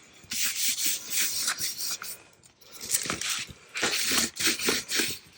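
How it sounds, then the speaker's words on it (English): Washi tape is burnished onto paper in a craft project, heard as close, soft scratchy rubbing strokes in three bursts separated by short pauses, with no talk. "I'm going to give that a bit of a burnish there"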